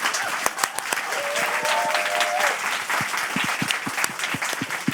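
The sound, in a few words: audience applause for the panel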